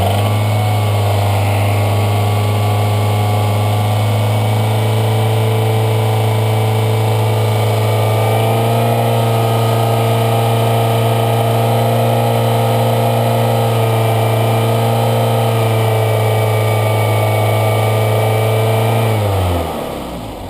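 A car engine with an exhaust leak, treated with SeaFoam for a rough idle, runs at a steady close idle with a constant low hum, then cuts off abruptly near the end.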